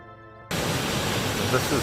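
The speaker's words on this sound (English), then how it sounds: "This is called White Horse Falls." White Horse Falls in Umpqua National Forest, Oregon, roars as a constant, dense rush of falling water close by, starting abruptly and holding steady throughout.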